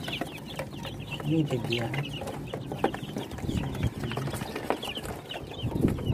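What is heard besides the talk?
chicks and native chickens clucking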